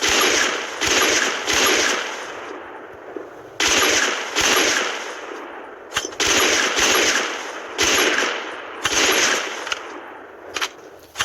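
Bursts of sniper rifle fire in a mobile shooter game, such as an AWM, M82B or KAR-98, crack out repeatedly with sharp loud reports, short gaps between the rapid shots.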